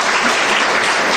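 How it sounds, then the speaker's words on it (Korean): A church congregation breaks into loud, close, sustained clapping to welcome newcomers, a brief dense burst of applause with no talk over it. "우리 한번 박수로 다시 환영해 주시기 바랍니다."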